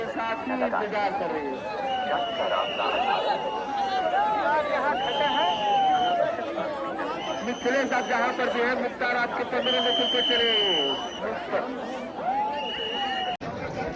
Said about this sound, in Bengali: আর মানুষের ভিড় দেখতেই পাচ্ছ কতটা ভিড় আরেকবার দেখাচ্ছি তোমাদের দেখো মানুষের ভিড় কতটা